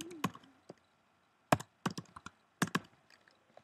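A computer keyboard being typed on in a few short bursts of sharp clicks, close and fairly quiet, separated by brief pauses.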